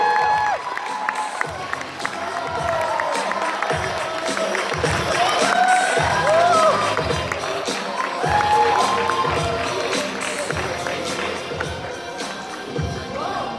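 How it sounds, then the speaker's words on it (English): A live audience at the Man of the Year Malaysia 2017 pageant cheers and applauds a contestant, with loud, sustained crowd noise, scattered shouts and high whistles, and no speech over it. "Please give him a big applause for contestant number 12."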